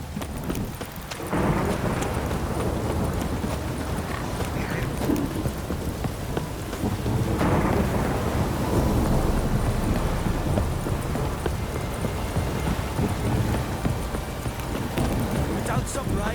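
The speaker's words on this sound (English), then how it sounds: "Don't stop raining, my arse will rot off." Steady rain falls outdoors in The Witcher 3 game world, with horse hooves clopping and low rumbles suggestive of thunder, while someone talks over the ambience.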